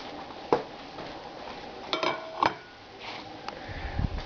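A quesadilla set into a pan, heard as a few soft clinks and scrapes of utensils against the pan with quiet gaps between, close and faint.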